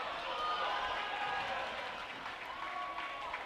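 Crowd noise in a school gym during a varsity basketball game, a broad, fairly faint roar of cheering voices and shouts sustained throughout, with distant talk mixed in.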